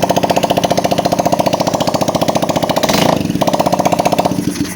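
A Honda Beat motor scooter engine, fresh from a camshaft and regulator rectifier replacement, runs steadily with a fast, even, rattly idle pulse, close and loud, with a brief rev swell near the end.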